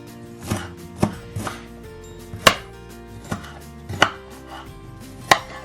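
Half an onion is chopped on a cutting board with a knife, heard as about eight sharp, separate knocks at an uneven pace, close and clear with no voices.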